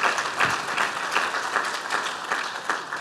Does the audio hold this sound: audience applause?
yes